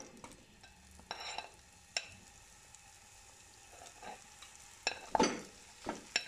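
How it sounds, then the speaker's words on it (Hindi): Potato masala for Punjabi aloo samosa stir-fried over a medium flame, a low sizzle broken by irregular spatula scrapes and clacks that cluster toward the end, close and unaccompanied by talk. "इसको मैं 2 से 3 मिनट के लिए बस इसमें हिलाते हुए फ्राई करूंगी"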